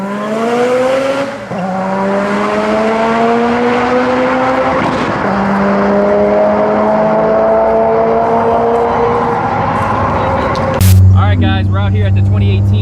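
A 1994 Eagle Talon with all-wheel drive, 940 horsepower and 50 psi of boost, at a 2018 shootout in Ohio, roars loudly from close range, its engine note climbing repeatedly in pitch through quick gear shifts before changing abruptly near the end.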